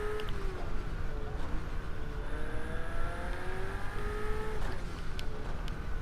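Ferrari GT3 race car in a racing video game, its engine holding a steady droning whine with gliding pitch shifts as it revs and shifts gears, with a faint brief revving blip near the end.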